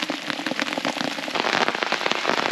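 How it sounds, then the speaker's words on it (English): Heavy rain beats on a lake and nearby surfaces during fishing on the world's highest lake in Bolivia, a dense close patter of many individual drops, loud and steady with no talking. "the rain got heavier and I wasn't prepared"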